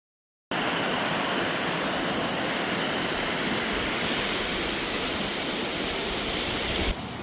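Mountain creek in the John Muir Wilderness of Inyo National Forest rushing steadily over rocks, a loud broadband wash of flowing water that runs unbroken and close by, with no voices.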